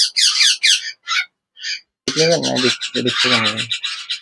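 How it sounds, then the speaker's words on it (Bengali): An Indian ringneck parrot gives a run of short, harsh squawks, then a louder, longer burst of raspy calls close by, with a brief pause between the two groups. "ভাই ইন্ডিয়ান রিংনেক, অরিজিনাল ইন্ডিয়ান রিংনেট"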